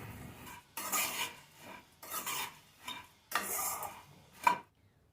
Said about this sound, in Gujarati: તો બે મિનિટ માટે આપણે મમરાને સરસ શેકી લીધા